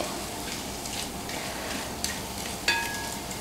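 Liver pepper fry in the Kerala style is stirred in a pan, giving a steady soft sizzle with light scraping and a couple of sharp clinks near the end, with no talking.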